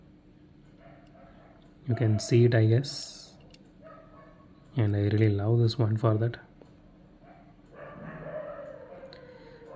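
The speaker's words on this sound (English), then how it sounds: "There are a lot of stray dogs in my area and it is really getting irritating nowadays." Stray dogs bark in two loud, close bursts of rapid yapping a few seconds apart, with someone talking quietly in between.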